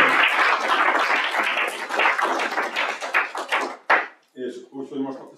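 Audience at a Hungarian wind chamber music festival and competition results ceremony applauding the local hosts: dense, steady clapping for several seconds that thins out toward the end, with a few separate claps and a thud near the close.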